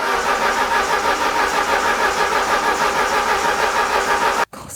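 A Peugeot 205 GTI engine is being started after long storage with a coolant leak. It gives a loud, steady, close running drone that cuts out abruptly near the end before a brief return.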